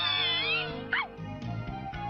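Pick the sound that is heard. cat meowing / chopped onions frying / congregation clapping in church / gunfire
cat meowing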